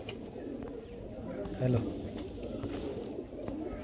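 Teddy breeder pigeons cooing in a loft, a soft throaty coo surfacing briefly mid-stretch under someone talking close by, with faint background noise around.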